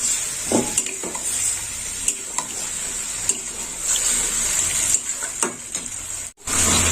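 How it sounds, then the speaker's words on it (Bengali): Potatoes are stirred in a pan after spices are tempered in oil for a red potato curry, with steady sizzling and intermittent scraping clicks of a utensil against the pan, fairly close, with no talking. "ফোড়ন দেওয়ার পর ভালো করে আলুটাকে নেড়ে চেড়ে দিতে হবে"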